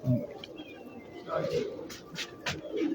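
Pigeons cooing in a loft, a few soft low coos at intervals, faint and partly under someone talking nearby.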